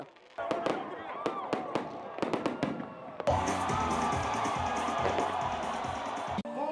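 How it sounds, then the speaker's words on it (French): Fireworks over a stadium at midnight on New Year popping in a rapid string of sharp bangs, then a dense roaring barrage with a crowd cheering underneath, loud and continuous. "Quand sonne minuit, des feux d'artifice illuminent le ciel du stade."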